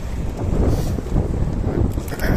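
Steady wind buffets the microphone in rough, rumbling gusts, loud and continuous throughout with no voices.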